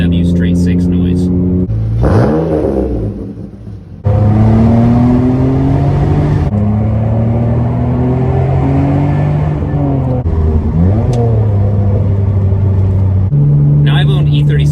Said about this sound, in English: it's hard to argue with that BMW straight 6 noise.